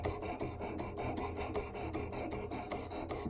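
A Work Sharp Elite Precision sharpener grinds along a Kershaw Blur knife edge in quick, continuous rasping strokes, close and dense, with no voices.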